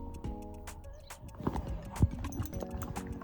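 A horse takes a treat of carrot or banana, with hooves clopping and shifting on the ground and a soft snort, while people talk throughout.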